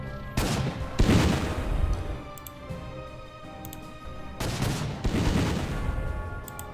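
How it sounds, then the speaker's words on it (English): Mobile pak gun in an Sd.Kfz. firing in Panzer Corps 2, two bursts of booming shots several seconds apart, each a cluster of sharp reports with rumbling tails over a steady background hum. "I really wanted to see how this pack gun would perform."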